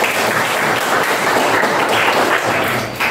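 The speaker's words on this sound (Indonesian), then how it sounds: "Tepuk tangan buat Rizky." An audience applauds for Rizky at a motivational training session, a dense, loud wash of many hands clapping steadily for about three seconds before tapering at the end.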